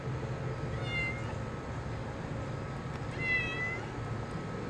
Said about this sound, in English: Of course, here comes the cat.